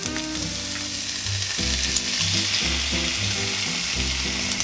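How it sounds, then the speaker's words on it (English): Steady, loud sizzling of onions and tomato sauce with parsley frying in a pan for Sicilian pizza, with a continuous crackling hiss and occasional stirring scrapes underneath. "Put it in a pan and start stir frying the onions."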